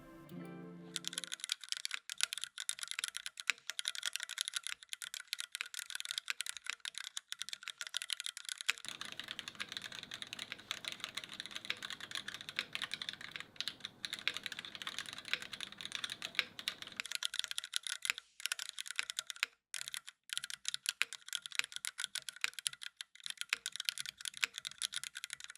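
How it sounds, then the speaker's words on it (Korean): Steady typing on an Orca65 mechanical keyboard, a whale-themed 65% board with curved sides, keystrokes clicking and clacking in a continuous close-up stream for the whole stretch, with no talking over it. "타이핑 해볼게요."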